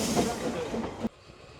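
Steam locomotive Taliesin pushes engine Russell across the Cob on the Ffestiniog Railway, a loud steady rushing hiss and rumble that cuts off abruptly to a quieter background partway through.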